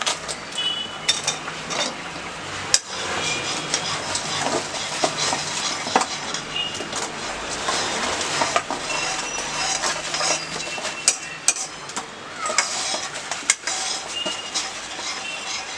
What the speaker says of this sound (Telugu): ఈ విధమైన కన్సిస్టెన్సీ వచ్చిన తర్వాత మనం మంచూరియా బాల్స్ అనేది ఇందులో వేసుకోవాలి